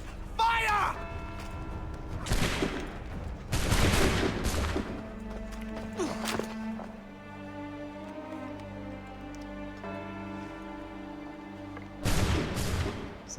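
Musket volleys crack out in Assassin's Creed III, several sharp, loud bursts of gunfire spaced a few seconds apart over a sustained musical drone.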